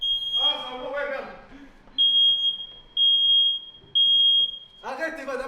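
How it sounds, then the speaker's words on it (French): A kitchen smoke alarm sounds in loud, piercing high beeps, one long tone then three evenly spaced bursts about a second apart, with people talking near it before and after. "Elle va désactiver l'alarme"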